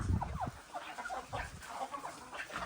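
Faint clucking from several free-range desi hens on a farm, soft scattered calls over a low background murmur.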